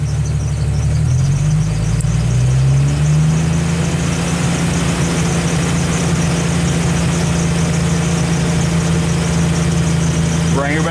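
A Jeep Wrangler YJ engine raised with a hand throttle climbs from idle to a higher, steady rev and holds there, loud and close, with a faint squeal near the end.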